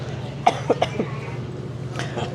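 A few short, close coughs from a person with flu, wearing a face mask, in quick succession, then a pause and a couple more, over a low steady background hum.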